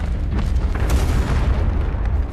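Explosions aboard the British warship Serapis during a naval battle reenactment, a continuous heavy booming rumble with overlapping deep blasts and crackling bursts, loud and close, with no talk.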